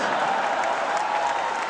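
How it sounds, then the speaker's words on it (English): Dense, continuous applause from a large convention crowd fills the hall at the BlizzCon 2008 cosplay final, steady and fairly close throughout. "Come on, give a round of applause."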